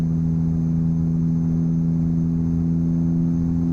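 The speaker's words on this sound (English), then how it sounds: "you can hear like the engine. This is some sort of Caterpillar, but it's a mod one" Modded Caterpillar diesel engine of a truck in American Truck Simulator, a steady low droning hum held at stuck RPM with constant harmonic tones and no variation in pitch.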